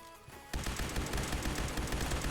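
Rapid automatic fire from a G11K2 rifle in Phantom Forces starts after a brief quiet lead-in, a dense, continuous stream of close, loud shots.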